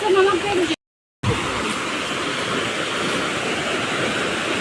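A waterfall at Dassam Falls near Ranchi roars as a steady broadband rush of falling water, loud and continuous apart from a brief gap, with a voice audible near the start.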